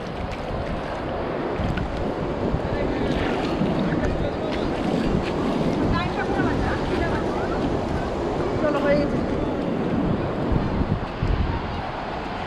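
Sea water at the Digha river mouth as the tide rises, a loud, continuous wash of surf mixed with strong wind buffeting, while people talk nearby.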